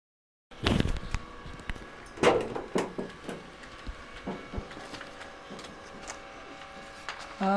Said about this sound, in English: So the test page has been printed.